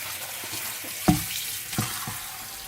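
Tap water runs into a kitchen sink while spinach is washed, a steady close stream broken by a couple of splashy clunks as the leaves are handled, with no talking.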